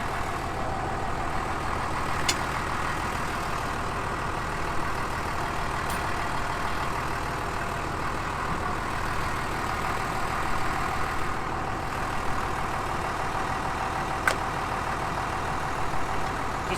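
A John Deere tractor engine idles steadily at a farm with hay equipment, a constant low, even rumble with a couple of faint clicks on top, no voices, lasting the whole stretch.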